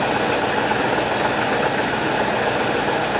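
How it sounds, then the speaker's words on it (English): A carbureted Ford Mustang engine idles steadily while warming up, a continuous loud, rough rumble with a faint knocking texture and no pauses, heard alone without any voices. "The engine's already warm, so the carburetor ought to follow suit here in a couple minutes."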